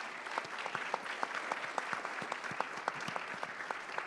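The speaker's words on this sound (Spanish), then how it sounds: "por favor un aplauso para todos los expositores de hoy" Audience applauds panel speakers at a climate change and coffee sector panel, with moderate, fairly sparse clapping and distinct individual claps audible in a room.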